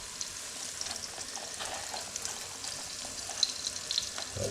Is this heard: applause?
no